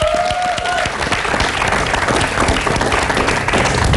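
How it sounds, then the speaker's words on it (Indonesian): A crowd applauds steadily with dense clapping throughout, loud and sustained, with a brief tone sounding at the start. "Kita beri tepuk tangan dulu untuk semangat"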